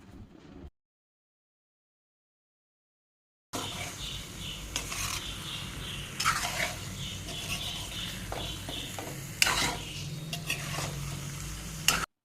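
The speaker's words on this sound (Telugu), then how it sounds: "ఒకసారి బాగా కలుపుకుని ఒక 2 నిమిషాల పాటు కూరని ఉడకనిద్దాం" Boiled potatoes are stirred into a sizzling aloo kurma curry, with soft sizzling and scraping, rubbing stir strokes against the pan after a brief silent gap at the start.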